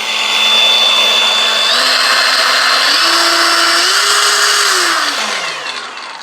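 A cordless angle grinder on a DeWalt 20V battery, rated 8500 RPM with variable speed, whines steadily up close and loud while its motor pitch steps upward through several speed settings, then winds down.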